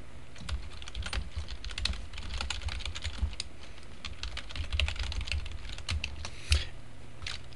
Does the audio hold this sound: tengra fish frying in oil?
no